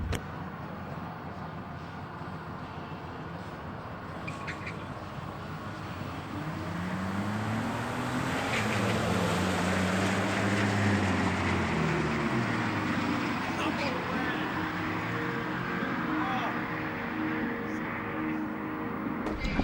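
A $600 Ford Mustang launches down a drag strip, its engine rising and falling through gear changes as it pulls away. The roar is steady and moderately loud over a broad rumble, with someone talking over it.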